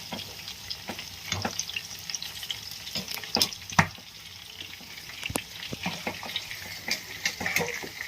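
Chunks of chicken kabab roast and sizzle in a pan, with a steady frying crackle broken by sharp clicks and scrapes of stirring, close and moderately loud, with no voices.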